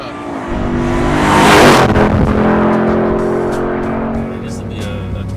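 Hennessey Mammoth 1000 TRX truck, a 1000 hp pickup, accelerating hard with a loud engine roar that surges, then settles into a steady high drone with wind noise.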